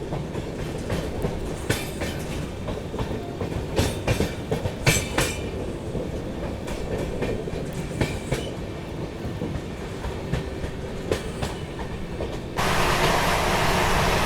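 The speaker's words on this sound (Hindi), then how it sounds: "बेंगलोर राजधानी एक्सप्रेस सामने से आ रही है" Indian Railways Duronto Express from Delhi to Bangalore running fast, with steady loud rumble and rhythmic clickety-clack of wheels, while the Bangalore Rajdhani Express passes on the adjacent track in a brief heavy rush near the end.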